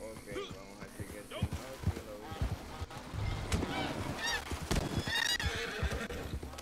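A horse on a rural Puerto Rico property whinnies and snorts amid farmyard noise, with geese honking and hooves clopping, while people talk nearby throughout.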